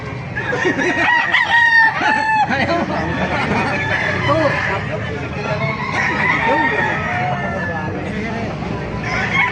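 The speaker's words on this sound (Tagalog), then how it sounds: "Magandang mga manok na ito" Roosters crow loudly and repeatedly while hens cluck nearby at a market in Baliuag, Bulacan, over a steady murmur of people talking in the background.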